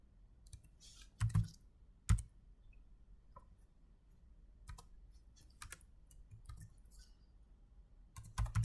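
Keystrokes on a computer keyboard as a social media handle is entered, scattered taps in irregular bursts with a few sharper, louder clicks near the start and end, close and otherwise quiet.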